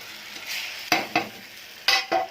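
Seer fish frying as a tomato, curry leaf and green chilli mixture is poured over it, giving a steady close sizzle broken by a few sharp stirring scrapes of a utensil against the pan.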